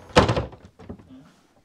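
A cabin door on a refitted Fairline Squadron 42 yacht opens with a solid thunk followed by a softer knock and rattle, close and brief.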